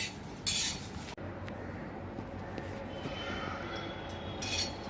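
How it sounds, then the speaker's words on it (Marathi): Jackfruit seeds dry-roast in a pan on the stove, giving faint scraping stirs and a few light metallic clinks of utensil against pan over a quiet room. "बिया जरा भाजून घेते मी छानपैकी"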